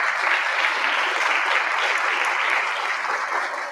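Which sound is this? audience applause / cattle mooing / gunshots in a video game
audience applause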